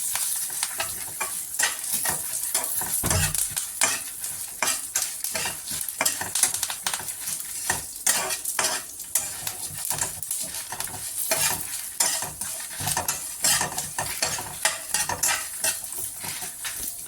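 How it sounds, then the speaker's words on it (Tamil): Curry leaves sizzle in hot oil for a Chettinad chicken gravy, with continuous crackling and frying and repeated scraping stirs of a utensil against the pan, fairly close and without voices. "கருவேப்பிலை சேர்த்து அதையும் சேர்த்து வணக்கி எடுத்துக்கலாம்."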